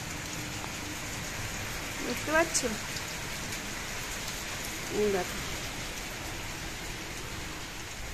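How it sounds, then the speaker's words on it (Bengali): Rain pouring steadily during a storm, a constant hiss throughout, with a person speaking briefly over it. "কিন্তু বৃষ্টি কিন্তু ভালোই পড়ছে জানো তো"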